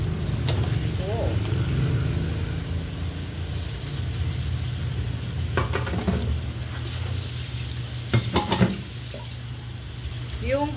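Shrimp paste (alamang) frying in a pan for ginisang bagoong, a steady sizzle throughout with occasional scraping and stirring clatters near the end.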